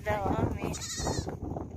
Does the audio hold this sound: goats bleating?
yes